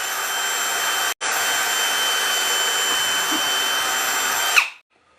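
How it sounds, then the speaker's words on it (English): A power drill whines steadily through the reclaimed-wood sideboard of a pig feeder trough at close range, pausing briefly once, then winding down to silence. "I'm just drilling through just the spot, the sideboard here."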